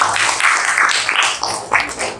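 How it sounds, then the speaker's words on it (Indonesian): An audience in a classroom presentation clapping for a presenter, a dense, steady wash of applause lasting a couple of seconds and fairly close. "Tepuk tangan dulu buat yang Mas."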